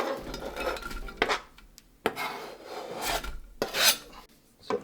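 Chopped onions are scraped into a crock pot for beans with sausage and leftover pork, several rough rasping scrapes of a utensil against a container in uneven strokes with short pauses between.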